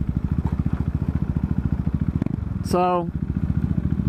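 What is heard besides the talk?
Honda CBR 1000RR motorcycle riding at night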